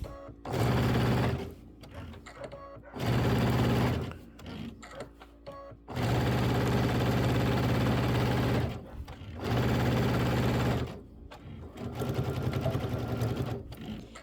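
A sewing machine stitches binding onto a Kimberbell Cuties table topper, running in four or five steady, close bursts of a few seconds each, separated by short pauses.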